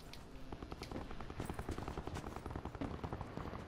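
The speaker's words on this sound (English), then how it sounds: "So much shooting's happening." Rapid automatic gunfire in Call of Duty Black Ops 4 Blackout mode among buildings, a steady rattling stream of shots that continues throughout at moderate distance.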